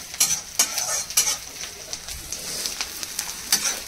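Chopped onions with masala frying in a pan for a goat head curry, a broad steady sizzle broken by several sharp scraping stirs at an irregular pace, close and clear with no talking.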